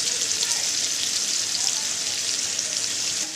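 Whole spices with ginger and garlic fry in a pan for a chicken curry cooked without water, giving a steady, bright sizzle that stays close and even throughout with no pauses.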